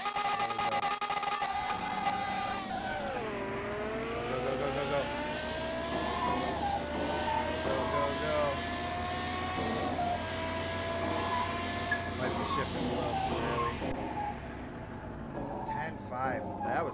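A drag racing car from Car Mechanic Simulator 2021 launches and accelerates hard, its engine rising through gears with a loud, steady whine. A voice talks over the run.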